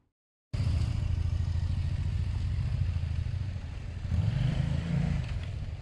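A nearby Suzuki motorcycle with putty sealing its exhaust idles in a steady, deep, pulsing burble. The engine briefly revs louder toward the end before settling again.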